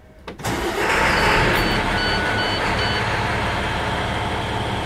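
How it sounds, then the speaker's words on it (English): A MaxxForce DT diesel engine cranks briefly, catches and settles into a steady, loud idle close by, with a faint high whine running over the rumble and no talking. "So I'll fire the engine up."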